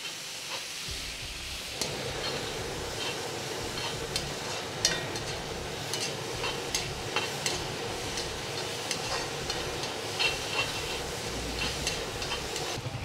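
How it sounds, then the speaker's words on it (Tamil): Curry leaves, onion, tomato and chillies sizzle and are stirred in a kadai for chutney, giving a steady frying hiss with faint scraping clicks throughout and no talking. "இப்போ வந்து நம்ம கடாயில் நல்லா மிக்ஸ் பண்ணிக்கலாம்."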